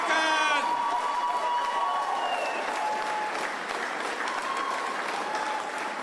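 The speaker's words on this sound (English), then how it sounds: "Again, a round of applause." A crowd at the Yes referendum campaign launch in Adelaide applauds steadily with scattered cheers and whoops, a continuous wash of clapping just after a voice trails off at the start.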